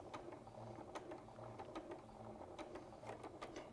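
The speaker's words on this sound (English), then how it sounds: "I'm just going to do a little lock stitch." Domestic sewing machine set up for free motion embroidery doing a short lock stitch, a quiet rapid mechanical ticking and whirring with regular clicks, no talk.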